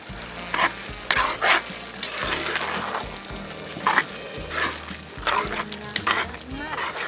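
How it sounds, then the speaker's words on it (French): Tuna and chopped vegetables stirred and simmering in a pan, steady sizzling with repeated scraping stir strokes, close and fairly loud, with a faint low background hum. "Brassez. Couvrez et laissez mijoter quelques 3 minutes."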